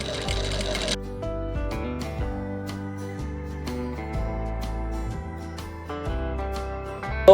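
A sewing machine runs in steady bursts as it stitches a patch onto a garment neckline, its motor whirring with brief pauses and restarts close by, with no talking.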